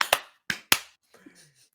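Three sharp hand claps, the first two close together and the third a moment later, followed by faint rustling.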